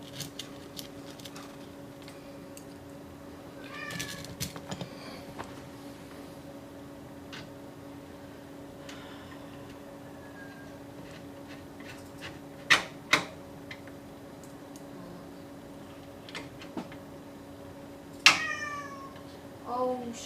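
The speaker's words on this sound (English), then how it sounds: "oh shush, you're a cat." A house cat meows several times indoors, short harmonic calls scattered across the stretch with clearer bursts near the middle and end, over a steady electrical hum from a computer workstation setup.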